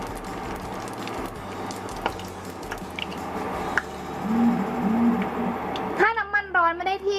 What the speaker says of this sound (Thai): อันนี้จะลองเทน้ำมันดูก่อนนะคะ